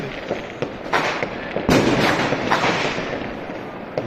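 Repeated New Year's fireworks bangs and crackles echo across a city from several distances, with one loud close burst partway through, over a continuous rumble of distant explosions.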